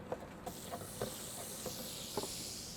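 Peppercorns and fennel seeds fry in a hot pan of duck fat with a steady sizzling hiss, soft crackles and small pops, and occasional light ticks from the spices stirring.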